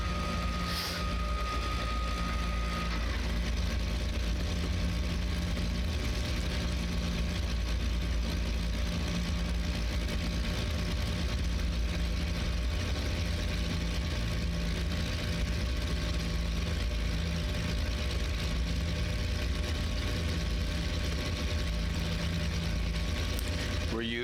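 Airplane engines droning in flight in the FSX flight simulator game, a constant dense hum with steady low tones and a whirring mechanical texture throughout.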